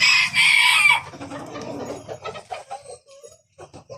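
A fancy rooster at a Kolkata farm crows loudly at the start, followed by softer scattered clucking from chickens nearby, with little talk.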